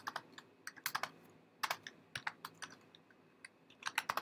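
Code is typed on a computer keyboard while writing a TensorFlow placeholder, with quick, light key clicks in short irregular bursts, close and quiet, no voice over them.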